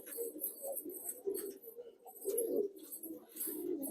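Breeding pigeons in a loft coo softly and repeatedly at close range, in low, throaty, rolling calls with brief chirps mixed in.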